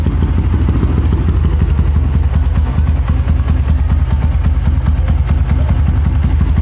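A Yamaha MX King motorcycle engine runs close by with a loud, rapid, rhythmic low thumping and clattery mechanical chatter, steady throughout with no pauses.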